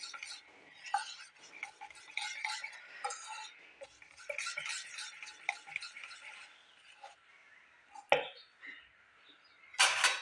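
A rice flour pitha batter mixed with half a spoon of baking powder is stirred in a bowl: soft scraping strokes with light clinks of the spoon, then a sharper clatter near the end.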